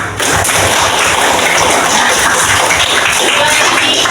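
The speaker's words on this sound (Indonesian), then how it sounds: "Ayo kita tepuk tangan dulu." A classroom of students claps hands together, a loud, dense burst of rapid clapping that starts abruptly and continues steadily, close by and filling the room.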